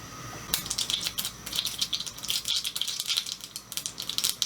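Mustard seeds popping in hot oil in a pan, a dense, irregular crackle of sharp little pops that starts suddenly and keeps going, close and fairly loud.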